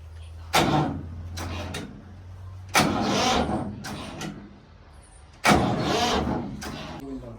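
An old 1990 Swaraj tractor's diesel engine, jump-started after a dead battery, cranks and catches three times, each start bursting loud then sputtering down to a rough idle between attempts.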